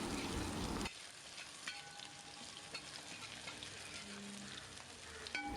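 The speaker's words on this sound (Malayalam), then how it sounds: "ചേർത്ത് കൊടുത്ത് നമുക്കൊരു 2 മിനിറ്റ് ഇതിനകത്തേക്ക് ഇട്ടൊന്ന് സോട്ട് ചെയ്യാം." Ginger and garlic sauté in a pan for chicken pulao, a loud sizzle at first that drops to a faint, steady frying crackle with occasional small stirring taps and clinks, no talking.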